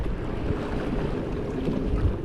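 Battery-powered electric boat motor running on open water, a steady low churning rumble with wind buffeting the microphone and water wash throughout, no talk.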